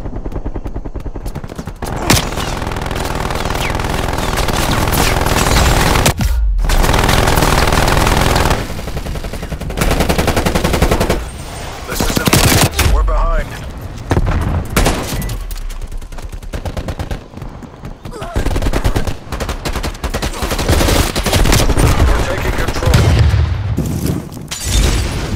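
Sentry turret in Call of Duty: Black Ops Cold War firing loud, sustained automatic bursts, with dense rapid gunfire running nearly continuously and only brief pauses, alongside booming impacts.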